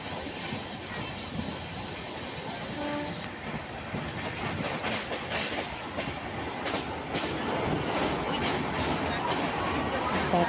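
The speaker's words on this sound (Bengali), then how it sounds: "দেখো বন্ধুরা ট্রেনটা ছেড়ে দিয়েছে" A passenger train pulling out of a station, its rumbling rolling noise and rhythmic clacking on the rails growing steadily louder and denser, heard from on board with voices murmuring underneath.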